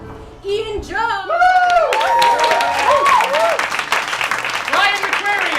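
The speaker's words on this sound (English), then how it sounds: "we need to thank and give a round of applause for" An audience at a literary carnival bursts into loud, sustained clapping mixed with whoops and shouted cheers from many voices, close and full, continuing unbroken to the end.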